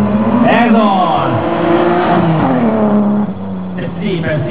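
A rally car at a demonstration event drives loudly with its rear wheels sliding out, the engine droning and shifting pitch steadily throughout, with a crowd or commentator voice mixed under the continuous roar.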